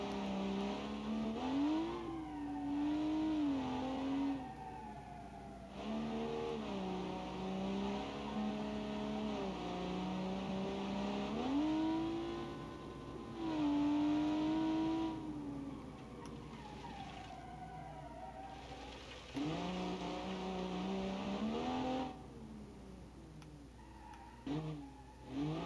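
Inline-six engine car from the Automation driving game, revving and shifting through gears with rising and falling engine tones, occasional tire squeal, loud and continuous.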